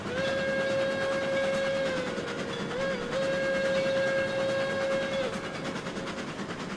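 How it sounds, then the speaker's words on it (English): A steam locomotive whistle in the video game RailRoads Online blows a long, sustained tone, dips briefly, then resumes, ringing out over a low rumble with a faint echo through valleys. "So we do get the great echo in the valleys on this one."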